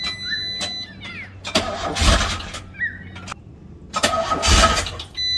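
Engine of a 1994 fourth-generation car cranking on jumper cables, two bursts of loud grinding starter churn with whirring between them, each cutting out without catching; a voice speaks briefly amid the cranking.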